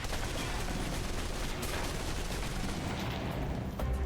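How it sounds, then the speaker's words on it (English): Submachine gun fire in Alpha Protocol pours out as a dense, continuous roar of rapid shots. It stays loud and unbroken for about four seconds, easing slightly near the end. "Now for your submachine guns. If you're trapped in close quarters with multiple opponents, the SMGs can help clear the room quickly. Not subtle or quiet"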